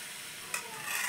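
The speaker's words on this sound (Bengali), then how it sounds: "গোলা এইভাবে প্যানের উপর দিয়ে দিব।" Flour batter with winter vegetables is ladled onto a lightly oiled pan for paratha and sizzles with a steady, soft hiss, swelling slightly near the end, with no talking.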